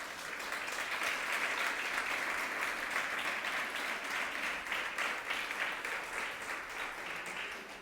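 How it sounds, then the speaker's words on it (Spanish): A church congregation applauds strongly during a service, loud sustained clapping filling the room and continuing steadily for several seconds. "Dele fuerte ese aplauso al Señor,"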